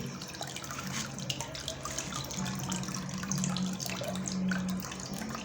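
Wheat pulp being washed in a nylon bag in a tub of water gives continuous soft sloshing and splashing with small drips, close and fairly quiet, with no speech.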